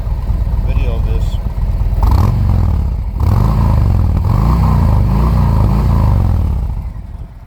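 A Harley Tri Glide with S&S Slash Cut slip-on exhausts, dB killer baffles still in, idles with a deep rumble and then revs up in several throttle blips, loud and close, while a person talks over it.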